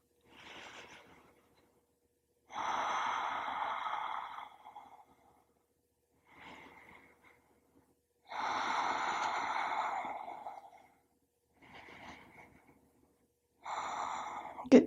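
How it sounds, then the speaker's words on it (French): Deep breaths during a yoga session: three slow inhale-exhale cycles, each a soft short intake followed by a longer, louder airy exhale, close and alone. "3 belles respirations."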